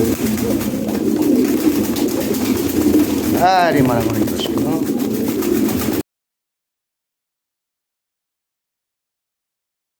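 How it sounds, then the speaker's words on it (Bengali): Pigeons coo nearby against a steady background murmur, with a short burst of human speech in the middle. "এই যে কবুতর পাঠিয়ে দিতেছি"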